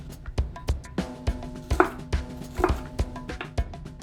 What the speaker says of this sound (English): Now I'm gonna slice across. And maybe these are a little big, so I'll just cut that in half.